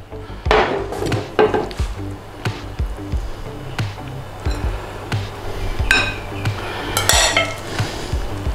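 Plates and bowls clink and knock while tuna larb is dished up, a run of scattered sharp ceramic and utensil taps, some louder and brighter than others, close by with no speech.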